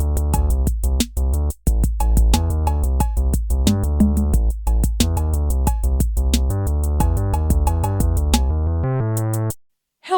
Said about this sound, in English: What you're hearing is Pokemon's Lavender Town tune.